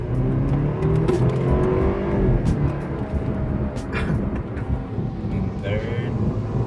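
A car with a BMS Stage 1 tune accelerates hard through a 0 to 60 run, the engine note rising loud and continuous from inside the cabin with wind noise and people talking over it.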